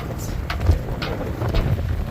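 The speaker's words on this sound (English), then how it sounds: "And it is windy. We have some 20 to 25 mile an hour winds." Steady blustery 20 to 25 mph wind buffeting a microphone aboard a Catalina 25 sailboat at anchor, with low rumbling gusts and brief airy surges throughout; no voices.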